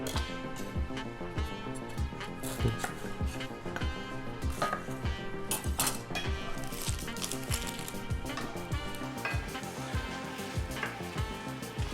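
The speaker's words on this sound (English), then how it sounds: "when we start dicing up some peppers, onions, some mushrooms" Peppers, onions and mushrooms being diced for a loaded pizza, a steady run of crisp knife chops on a cutting board repeating quickly and evenly throughout, close and clear against a faint kitchen background.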